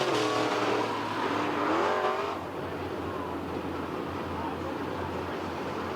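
Race cars at Lebanon Midway Speedway roar around the track in a continuous engine rumble, louder at first and then settling into a steadier, more distant drone, with a commentator talking over it.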